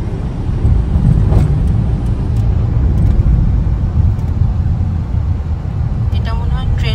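Congested town road traffic in Krishnanagar, crowded with e-rickshaws and shops, makes a loud, constant rumble of passing vehicles, with a few brief higher tones rising near the end.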